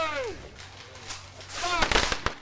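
A volley of black-powder rifles fires at a historical reenactment at Fort McKavett, Texas, a cluster of sharp loud bangs near the end following shouted commands and talk.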